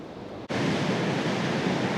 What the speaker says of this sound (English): The water's still larruping up against the side, so it's a bit dodgy, and the slipway is wet.